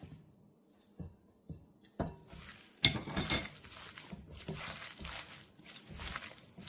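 Dried pollack strips are worked by hand into seasoning with bellflower root in a bowl, giving soft irregular squishing and rustling with occasional sharp clinks of the bowl, moderately close and fairly quiet.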